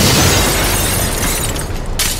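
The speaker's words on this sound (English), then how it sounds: "This place go one day without an explosion!" A loud explosion roars in a comedy sketch, a dense rumbling blast that fills the sound and decays slowly over two seconds with crackling debris, ending in a short burst of noise.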